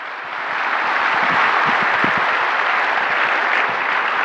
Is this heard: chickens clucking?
no